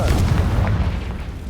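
A Confringo spell explosion in Hogwarts Legacy lands as a single deep, booming blast that rumbles loudly and close before slowly fading.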